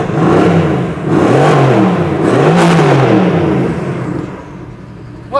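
Mercedes-AMG GT R Pro with a twin-turbo V8 revving repeatedly, loud close blips that rise and fall in a wavy rhythm before settling to a lower rumble.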